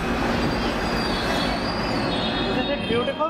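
Mumbai monorail train running on its track, a steady loud rolling rumble with high wheel squeal and a few rhythmic clicks near the end.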